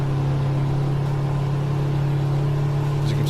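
A modded Kenworth W521 truck engine in American Truck Simulator drones at a constant pitch, a steady mechanical hum with a slight whir, unbroken throughout.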